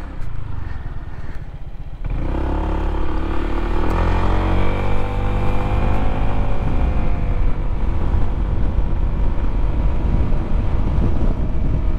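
Heavy wind buffeting roars steadily past the rider on a Honda ADV 150 scooter fitted with a PSLER windscreen at its highest position, with engine drone beneath and no talking.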